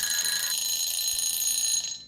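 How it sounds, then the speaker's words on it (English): A timer alarm buzzer rings steadily and loudly with a shrill, continuous electronic tone for about two seconds, then cuts off and fades at the end. "I beat the buzzer. Let it go off though."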